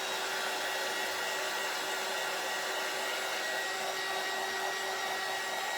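A hair dryer blows in a steady, unbroken roar while drying small fabric flag pieces, close and constant with no talking.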